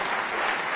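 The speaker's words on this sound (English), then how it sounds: "Give yourselves a round of applause." Audience applause at a town hall discussion in the Black Box Theater at the University of Minnesota, a dense, steady burst of clapping filling the whole short moment without pause.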